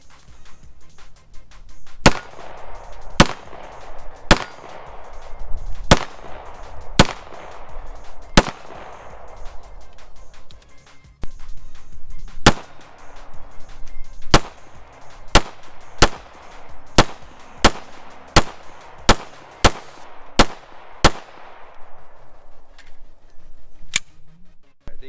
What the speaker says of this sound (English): right now I'm gonna shoot it so you can see there's hardly any recoil on this gun